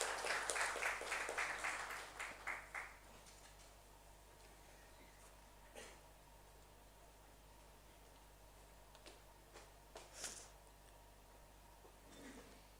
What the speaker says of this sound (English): Please join me in applauding her warmly.